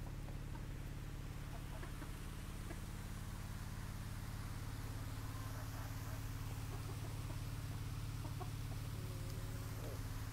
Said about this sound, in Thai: บางทีเราก็ไม่รู้นะว่าไก่กินผลไม้จะเป็นธรรมชาติบำบัดหรือเปล่า